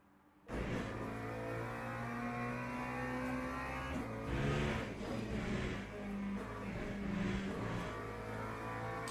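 A McLaren race car engine in Le Mans Ultimate, starting abruptly and holding a steady, loud mid-pitched drone with rising revs and shifts, close and continuous with no talk.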